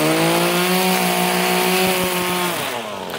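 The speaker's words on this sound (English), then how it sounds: "I'm trimming one-handed. So, you know, the trimmer line ain't too bad." A handheld string trimmer whirs steadily at close range with a loud, continuous high-pitched motor drone while trimming, then pitch drops slightly as it eases off near the end.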